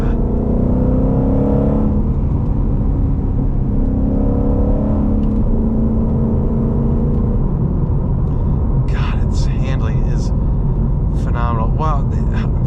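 Ford Mustang Shelby GT500 engine humming at steady cruise inside the cabin, a continuous low drone, with people talking over it throughout.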